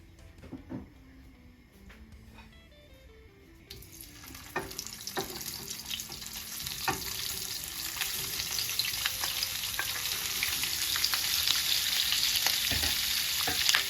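Sausage fries in vegetable oil in a pan. The sizzle starts softly amid a few clinks and builds into a loud, dense crackle, broken by sharp taps of a utensil.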